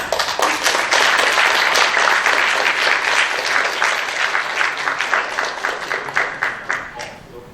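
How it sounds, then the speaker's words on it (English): A lecture audience claps to welcome Sir Richard Roberts at a life sciences lecture, dense applause that thins out toward the end into a few scattered claps. "let's give a big round of applause to welcome Sir Richard."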